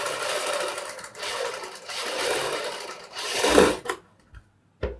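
Sewing machine running steady stitching through a kurti neckline backed with buckram, a continuous close whir in long bursts with brief pauses and a short restart at the end.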